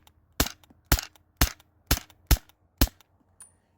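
Six evenly spaced sharp cracking shots from a modded Sabre home defense launcher running on low-pressure CO2, close and loud, each a short pop with a quick decay, followed by a faint seventh click.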